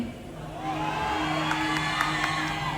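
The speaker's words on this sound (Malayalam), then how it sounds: "മതി ഈ ഒരു ആരവം മാത്രം മതി" A live stage show by Rimi Tomy in Dammam, Saudi Arabia, where a large audience cheers, whoops and roars in a steady, loud wall of crowd noise with a few sharper shouts rising above it.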